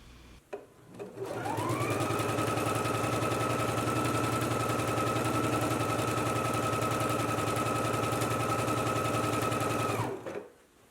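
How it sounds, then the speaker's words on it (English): Close and loud, a sewing machine runs one long, steady burst as it stitches a seam line on a McCall's 8259 garment, starting and stopping cleanly after about nine seconds. "So I'm going to go ahead and stitch my line now."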